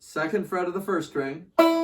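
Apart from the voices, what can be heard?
No distinct noise like a dog, phone or traffic.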